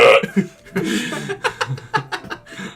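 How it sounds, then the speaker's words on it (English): A short burp in a casual gaming session, mixed with chuckling and laughter from nearby voices, close and fairly loud. "I turn around and burp in her face."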